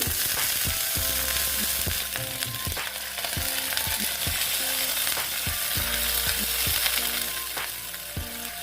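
Gathi kochu (taro) sizzling loudly in a hot pan as water goes in, with a steady hiss and bubbling and repeated low knocks from stirring, and no voices.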